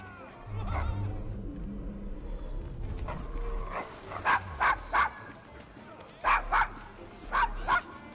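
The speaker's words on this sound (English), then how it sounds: "Is your dog quite all right? Oh, Desmond's fine. He's just not over fond of strangers." Desmond the dog barks in Assassin's Creed Syndicate's rough Devil's Acre district, a string of sharp close barks in two clusters of three, following a stretch of talk and low background rumble.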